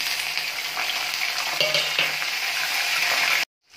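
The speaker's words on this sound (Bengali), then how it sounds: "তেল গরম হয়ে গেছে, আমি এখানে কালো জিরে ফোড়নে দিয়ে দিচ্ছি।" Nigella seeds and slit green chillies sizzle steadily in hot mustard oil, a loud, close, continuous crackling hiss that cuts off abruptly near the end, with no talking.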